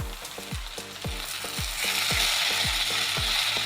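Jute leaves and vegetables fry in a pan with a steady sizzle, while a regular series of low, thumping clicks repeats about every half second beneath it, no voices present.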